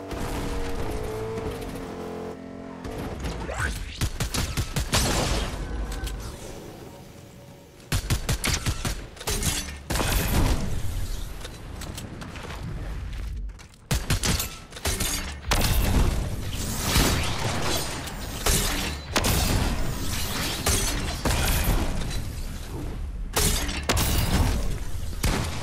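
Dense, loud gunfire in the Fortnite video game, with rapid bursts and booms repeating almost continuously, broken by short pauses.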